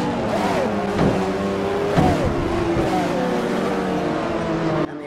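A McLaren F1 GTR race car engine in the Assetto Corsa racing game on the Nürburgring Nordschleife, a loud continuous drone that rises and falls in pitch through repeated gear changes and revving, with music playing underneath.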